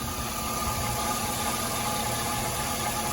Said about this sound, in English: see it shaking and it's not running right, it'll stall too sometimes